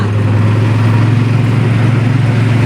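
A loud, steady diesel engine idles with a low, throbbing chug, close by and continuous throughout.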